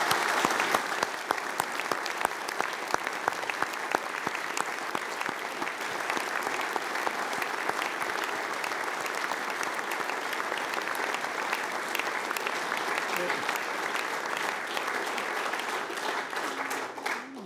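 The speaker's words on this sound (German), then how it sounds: "Herrn Schmitz nochmal eine Runde Applaus dafür zu spendieren" Sustained applause from an audience at a banking association's annual reception, many hands clapping steadily and evenly throughout, fading slightly at the end.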